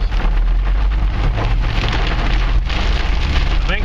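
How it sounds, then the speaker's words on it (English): Heavy rain with big, fat raindrops pelting down steadily and loudly, a dense continuous patter close by with no speech. "Big old raindrops now, big old fat ones."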